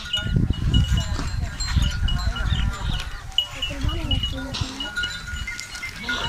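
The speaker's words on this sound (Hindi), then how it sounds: "ये बहुत ही प्यारी और बकरियां भी हैं, इसमें भेड़े भी हैं।" A mixed flock of goats and sheep bleating close by, several calls overlapping with someone talking over them, livestock noise and voices filling the whole stretch.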